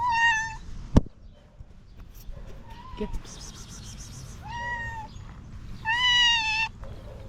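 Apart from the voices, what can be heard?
angry cat meowing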